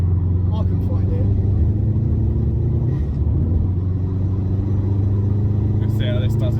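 A Subaru WRX STI Raptor Eye with 360 bhp and four-wheel drive rumbles along the road, a deep steady engine drone filling the cabin with little change in pitch.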